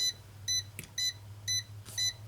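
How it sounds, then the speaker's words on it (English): Short electronic beeps from an electronic load repeat at a steady, quick pace, about five in a row, over a low hum with a couple of faint clicks. "It keeps beeping and beeping and beeping and beeping"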